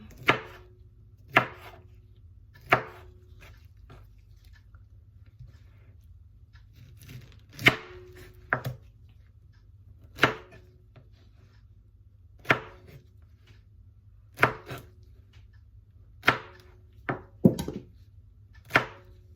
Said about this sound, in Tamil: இப்படி ஒரு அளவான துண்டுகள் போட்டு வெட்டி எடுப்போம்